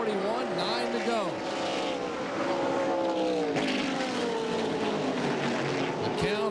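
NASCAR Southwest Tour stock cars racing in 1996, several engines roaring and whining past with rising and falling pitch sweeps, loud and close, with a commentator talking over the din.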